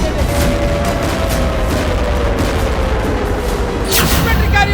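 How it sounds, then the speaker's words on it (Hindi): Artillery guns fire in Gaza, with a heavy boom bursting out near the end over a constant loud, rumbling wash of distant battlefield noise. "एक और आर्टिलरी गन फायर की गई"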